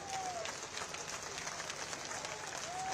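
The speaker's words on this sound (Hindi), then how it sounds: "जरा जोर से ताली हो।" Crowd clapping steadily at an outdoor political rally, a brief, fairly faint wash of applause with a voice briefly audible.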